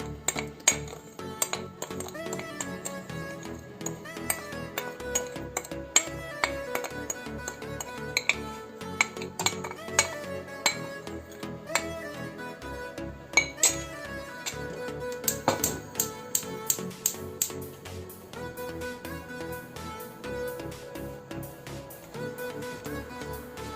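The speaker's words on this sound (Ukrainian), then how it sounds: "Перемішую і вводжу зразу в холодне пюре і буду нагрівати і загущувати" A utensil scrapes and clinks against a metal pot in steady, repeated stirring strokes through cherry puree, light tapping and rattling continuing throughout at close range.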